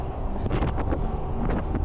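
Strong, gusty wind buffets the microphone on a moving delivery vehicle on a very windy day, a loud continuous roar with sharper bursts and no talking.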